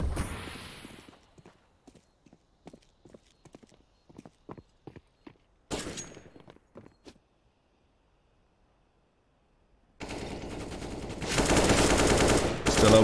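CS:GO gunfire on the Mirage map in a pro match: a sparse string of rapid clicking shots, then a loud burst and a louder sustained spray at the end.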